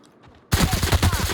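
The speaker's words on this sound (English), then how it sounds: "Good shooting." Rapid burst of gunfire in the video game The Outer Worlds, loud and close, a quick run of sharp shots kicking in abruptly after a moment of near silence.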